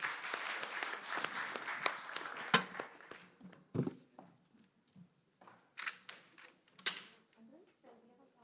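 An audience applauds speakers at an energy and climate policy conference, scattered claps that thin out into sparse individual claps and faint knocks in a quiet hall.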